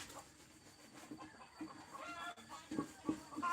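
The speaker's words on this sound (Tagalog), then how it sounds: "Putak ng manok ano." Several chickens cluck in short, scattered bursts, fairly faint and somewhat distant, over quiet background noise in the morning.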